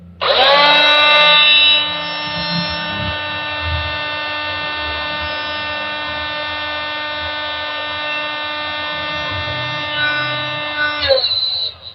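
A Mailtank SH18 12V battery angle grinder spins up and runs at full speed, a steady high-pitched whine that holds level for about ten seconds before winding down, with faint background noise underneath.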